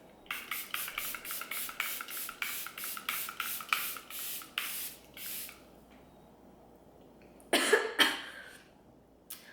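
Makeup setting spray hisses out in a rapid series of about a dozen short close pumps, then a pause and two or three more longer spritzes.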